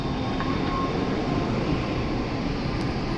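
A Shinkansen N700S Nozomi train at Nagoya station platform 17 fills the clip with a steady, loud rushing rumble, continuous and close throughout.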